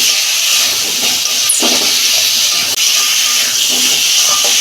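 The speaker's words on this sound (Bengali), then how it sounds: "এই যে আলুগুলো আমি দিয়ে দিচ্ছি আর দু মিনিট আমি কষতে নেবো" Potatoes frying in hot oil in a pan while preparing a home-style fish curry, a loud continuous sizzling hiss close by with a few faint clinks of a utensil, no talking.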